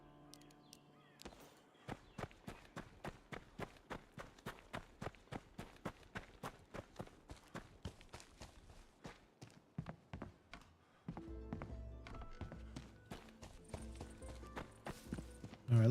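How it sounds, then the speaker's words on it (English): Footsteps in the survival shooter game Deadside, a steady run of evenly spaced thudding steps, clear and fairly close, ending with a shift to a denser rumbling texture. "Thought I heard some footsteps."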